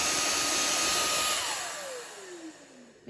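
An Aujun J10 cordless vacuum cleaner runs with a loud, close, high whine, then powers down, its motor pitch sliding steadily lower as it winds to a stop.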